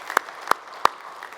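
Three slow, isolated hand claps from a single person at a disability veterans' convention session, evenly spaced and fairly close, with a quiet room behind them.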